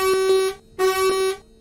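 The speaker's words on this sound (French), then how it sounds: "Est-ce qu'il y a un klaxon? Oh là là, j'adore le klaxon." Two loud blasts of a new Irisbus city bus horn in the OMSI 2 bus simulator game, each about half a second long with a short gap between them, a bright steady tone sounding close and alone.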